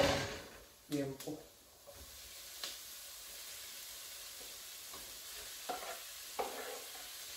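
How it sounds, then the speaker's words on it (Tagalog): Liempo, about a kilo of pork belly, sautés in a pan with a faint steady sizzle, broken by a few sharp stirring scrapes and clatters while a voice speaks over it. "Gisa natin itong liempo."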